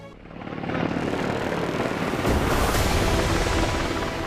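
A Chinese Z-20 stealth attack helicopter produces a loud, continuous roar of rotor and engine that swells over the first second and then holds steady and close, with no voices.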